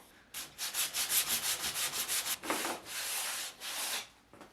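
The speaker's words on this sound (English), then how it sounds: "So about 5-10 minutes of sanding" Sandpaper worked by hand over a wooden drawer body to strip a hard finish, a quick run of rhythmic rasping strokes followed by longer, smoother rubs, close and alone.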